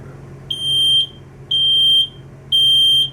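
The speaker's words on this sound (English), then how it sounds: "To properly test a smoke detector, every detector, no matter the make or model, has a test button on the front of it." A smoke detector sounds during a button test, giving three loud, piercing half-second beeps at a steady one-per-second rhythm over faint room hum.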